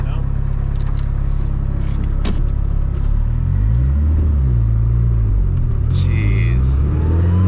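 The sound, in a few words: SR20-swapped Datsun 240z driving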